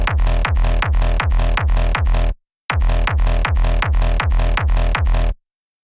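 A punchy uncompressed kick drum sample repeats in a steady loop, booming and loud, pausing briefly midway before resuming, then stopping abruptly.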